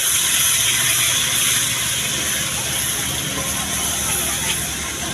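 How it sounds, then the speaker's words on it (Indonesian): Spices sizzle in a hot pan during stir-frying, a loud continuous hissing fry with steady crackle and no clear breaks. "Masukkan bumbu lalu ditumis."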